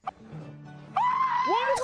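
A person screams after falling from a canoe into shallow water, a short rising yelp following a low murmur, close and fairly loud.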